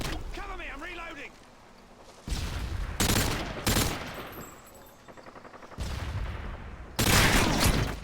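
Rapid automatic gunfire from Call of Duty: Modern Warfare 2 team deathmatch, several loud sustained bursts separated by brief pauses, with game effects and a voice talking in between.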